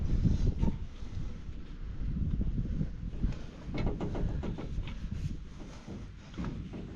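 Gusty wind buffets the microphone outdoors beside a combine in a field, a loud low rumble that rises and falls in surges, with light rustling over it.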